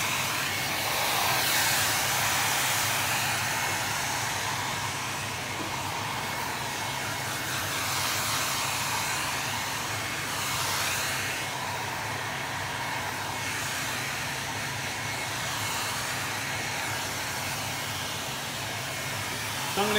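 A hot air dryer blows onto lacquer on a leather car seat from a classic Riley Pathfinder, a loud, steady whooshing roar held close for the whole stretch with small swells in strength.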